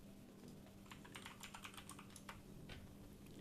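Quiet, rapid clicking of keys on a computer keyboard sounds in bursts during a Pokemon podcast, faint and in the background with no talking.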